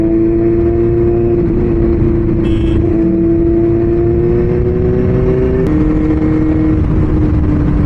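Steady, loud motor-vehicle drone with a rising engine tone, heard near a road at the mouth of a tunnel as vehicles speed out, with a brief passing whoosh midway and no talking.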